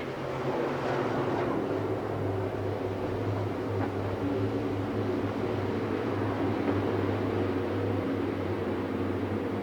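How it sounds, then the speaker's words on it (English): Spec racing trucks circle the Mesa Marin oval at full throttle during a 150-lap race in 1999, a constant broad engine roar with a steady low drone, heard from a distance without talk. "They put that throttle all the way down to the firewall, and they turn left, and they try it again"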